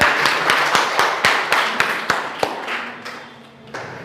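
A crowd at a school result celebration claps loudly for a staff member, the clapping falling into a steady, rhythmic beat that stays strong throughout before easing slightly near the end.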